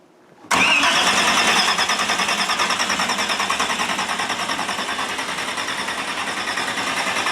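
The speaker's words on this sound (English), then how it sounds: "I'm going to crank it and see if we can build oil pressure." A Chevrolet Camaro drag car engine cranks over with a steady rhythmic whir for several seconds, loud and close, with no voices.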